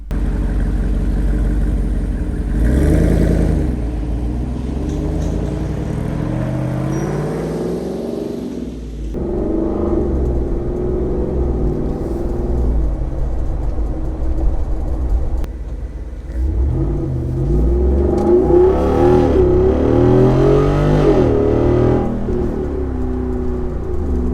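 A Jeep Rubicon 392 Xtreme Recon with a V8-sounding engine and an 8-speed automatic runs close, its exhaust rumbling and rising through gear changes, then easing off briefly before it accelerates hard again.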